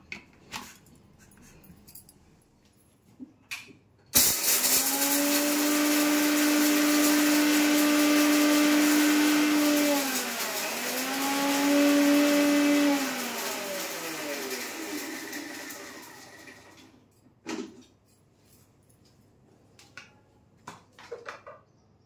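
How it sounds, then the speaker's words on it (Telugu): A kitchen mixer grinder starts abruptly and whirs loudly for about twelve seconds, its pitch dipping and rising as it is pulsed twice, then winds down, with clicks and handling noises before and after. "ఇప్పుడు ప్రస్తుతానికి ఇది నేను మిక్సీ వేసేస్తాను"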